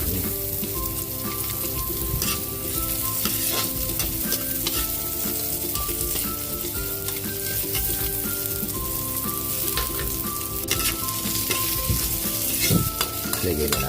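Garlic and onion sautéing in a pan for chicken tinola, with a steady, continuous sizzle and frying crackle broken by occasional stirring scrapes. It is close and fairly loud, with no talking.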